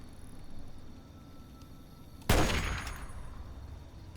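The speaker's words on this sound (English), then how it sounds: "it seems some devilish rascal seems to be shooting at us" A single sharp gunshot cracks out in the Fallout 3 video game, loud and near, with a ringing decay over quiet background ambience and another burst starting right at the end.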